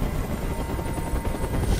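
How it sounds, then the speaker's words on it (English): A helicopter hovers in the video game Detroit: Become Human, its steady low rotor rumble filling the scene loudly and continuously without speech. "I can't stand that noise anymore. Tell that helicopter to get out of here."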